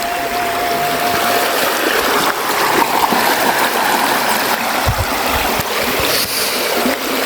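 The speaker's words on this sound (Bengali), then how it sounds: "তারপরে এখানে এই ফলগুলো ধুয়ে নিই।" Fruit being washed under running water at an outdoor picnic, a steady loud rush and splash of flowing water with occasional knocks and handling sounds, continuous throughout.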